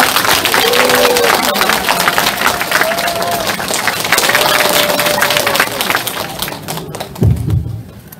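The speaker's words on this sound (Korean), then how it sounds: "여러분 큰 박수로 환영해 주십시오" Crowd applause at a Korean political party event, a book launch for a party leader, welcoming a former district council chair to the stage; dense, sustained clapping fills the room with some tonal background sound and a thump near the end.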